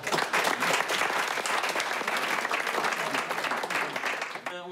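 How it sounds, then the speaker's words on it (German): Applause from a ship's audience as the captain of a Hurtigruten coastal voyage is introduced, dense steady clapping at close range through nearly five seconds before it thins out and ends abruptly. "Er verdient einen Applaus, bitte."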